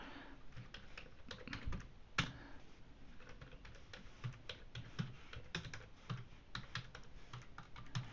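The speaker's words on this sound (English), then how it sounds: "I will typing this feed on this Google Keep from my physical keyboard." Fast, uneven clicking of keys on a physical keyboard hooked up to an Android phone, recorded close and fairly quiet, with no voices.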